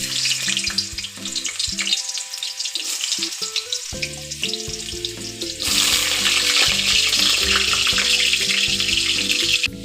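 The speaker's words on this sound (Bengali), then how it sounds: "এটাকে আমি আলুটাকে ভালোভাবে লাল লাল করে ভেজে নেব" Cut potatoes fry in hot oil in a kadai, a steady sizzle that grows louder and denser partway through, with faint scraping and clatter in the pan. No voices.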